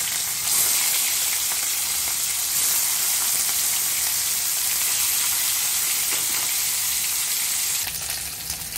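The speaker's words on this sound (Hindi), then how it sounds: "मैंने एक एक करके मच्छी दे दूंगी इसमें, सारी मच्छी ऐसे दे के फ्राई कर लूंगी" Pieces of rohu fish fry in hot oil in a kadhai, giving a loud, steady, dense sizzle and crackle that runs nearly unbroken and dips slightly near the end.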